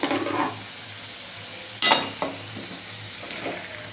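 Potato chips tossed with pepper powder in a pan make a low sizzle broken by sharp scrapes and clatter from stirring, with a few lighter taps after, and no voices.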